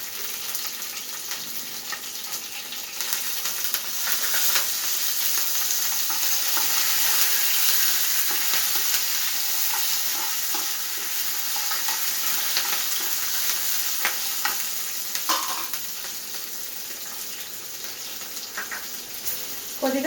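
Mustard seeds, cumin, green chillies and curry leaves sizzling in hot oil for lemon rice, a loud, dense, continuous crackling hiss with occasional stirring clinks, no voices.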